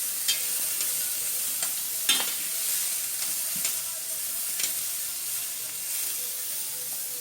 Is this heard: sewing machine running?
no